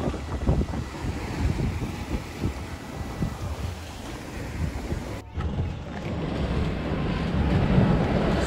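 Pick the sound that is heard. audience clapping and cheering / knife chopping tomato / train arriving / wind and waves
wind and waves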